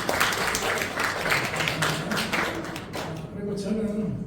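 An audience at a Korean Esperanto pioneers' day gathering applauds, a dense patter of clapping that holds steady for about three seconds, then fades out under a low murmur of voices.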